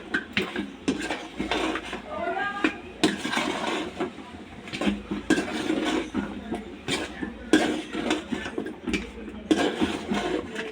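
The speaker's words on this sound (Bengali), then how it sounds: "তো সবজিগুলোকে খুব ভালোভাবে আমি মশলার সাথে মিক্স করে কষিয়ে নেব খুব ভালোভাবে।" Vegetables for a light fish curry with potato and pointed gourd are stirred and sautéed with spices in a pan, with scraping and clinking of a spatula against metal in irregular bursts over a steady cooking hiss.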